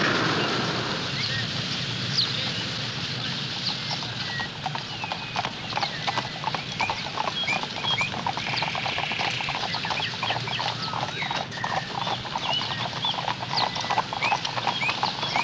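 Horse hooves clip-clopping steadily as the Governor-General's horse-drawn carriage passes through the streets of Canada's capital, a continuous rhythmic clatter over outdoor ambience with faint bird calls.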